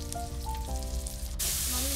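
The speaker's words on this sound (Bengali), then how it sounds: "এখন মামি সবজি রান্না করছে।" Vegetables sizzling in a pan on a clay stove, a steady close frying hiss that rises sharply partway through, with faint talk and a low hum underneath.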